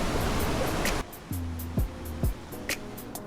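Mountain river water in Tusheti rushes as a loud, broad hiss for about a second, then cuts abruptly to a quieter scene with low steady hums and a few sharp clicks.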